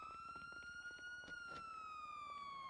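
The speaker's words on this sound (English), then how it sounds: "Do you hear a siren?" A video game police car siren wails steadily in a long rising and falling tone, loud and close, with faint clicks and thumps underneath and no talking.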